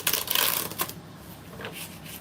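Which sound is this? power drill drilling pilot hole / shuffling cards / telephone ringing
shuffling cards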